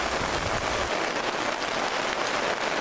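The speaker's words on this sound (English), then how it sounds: "Wow, as you can see, it's raining again." Steady rain falls outdoors, a dense even hiss of drops on surfaces, loud and constant with no talk.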